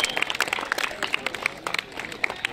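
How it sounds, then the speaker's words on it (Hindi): Scattered hand clapping from onlookers at a 1600 m army recruitment rally race, a loose, uneven patter of claps with light crowd noise and some speech mixed in. "तालियां"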